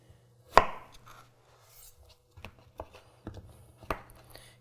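A Shan Zu Damascus chef's knife slices zucchini into planks on a cutting board, one sharp loud chop followed by several lighter, irregular cuts and knocks, close by, with no talking.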